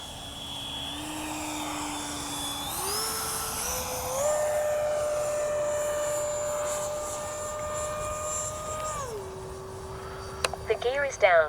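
An H-King Flycat V2 RC jet makes a low pass, its high turbine-like whine sweeping upward in pitch and holding steady, loud and close, before dropping away at the end, with faint talk over it.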